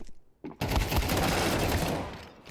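An AK rifle fires on B side in a Counter-Strike 2 match. A couple of brief shots come first, then a loud, sustained burst of automatic fire that fades toward the end, with no commentary over it.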